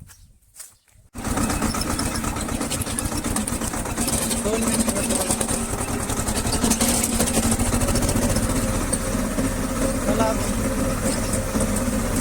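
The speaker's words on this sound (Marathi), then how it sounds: "आवाज येत नसेल कारण ट्रॅक्टरचा आवाज" A tractor engine cranks and catches after a short quiet moment, then idles loudly with a steady rough chugging throb near the listener, while a person speaks briefly over it.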